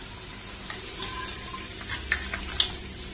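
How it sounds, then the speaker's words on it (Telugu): Hot tempering poured into a homemade pickle sizzles with a low, steady fizz, broken by a few sharp crackles and pops near the end. "ఇప్పుడు మనం పోపు తీసి పికిల్లో యాడ్ చేసేసుకుందాం."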